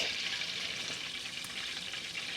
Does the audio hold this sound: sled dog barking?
no